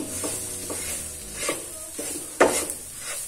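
Moong dal cooking in a pan while being stirred, a low sizzle under several spoon scrapes and clinks, one sharper knock near the end, close and fairly quiet with no talking.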